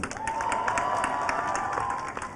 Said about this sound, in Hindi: उनके लिए तालियां गाइस।